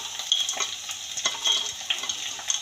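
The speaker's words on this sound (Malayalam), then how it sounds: "ഇനി നമുക്ക് ഇതിലേക്ക് സവാള ഇടാം." Onions going into a frying pan for a prawn roast, a brief close sizzle with a few quick stirring scrapes and small metallic clicks, no voices.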